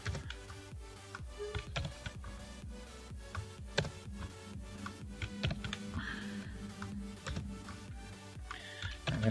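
Computer keyboard keys are pressed in steady typing, with a rapid stream of light clicks and taps close by and no talking.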